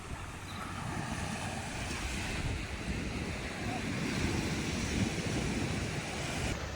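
Ocean surf washes continuously onto a Maui beach, a steady rolling roar with wind buffeting the microphone throughout.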